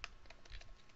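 Quick, soft keyboard typing, a light run of key taps clicking close by for a second.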